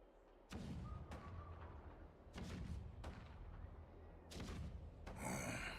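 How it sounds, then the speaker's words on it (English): Deep, booming cannon rumbles roll in a few times at a distance, low and heavy, with a sharper blast near the end. "The rumble of the cannons."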